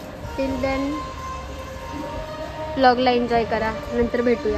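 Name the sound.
train departing from the station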